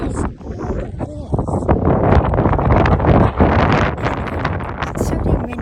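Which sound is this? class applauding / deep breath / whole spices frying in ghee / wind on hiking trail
wind on hiking trail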